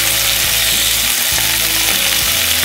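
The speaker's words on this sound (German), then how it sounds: "Hier kommt gleich das Fleisch rein und wird dann 2 Minuten angebraten." Meat sears in a hot pan while cooking a Hello Fresh meal kit, giving off a loud, steady, close-up sizzle with no voices.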